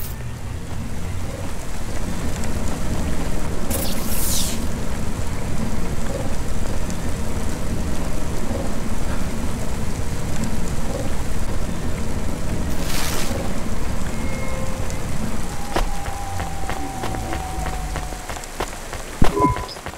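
Steady rain and storm noise in the video game Cloudpunk, a dense continuous hiss with a few brief louder bursts, no voices.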